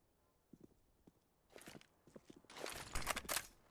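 Footsteps in the Counter-Strike: Global Offensive video game during a professional esports match on the Train map: scattered soft steps at first, then a rapid run of louder crunching footfalls that builds toward the end.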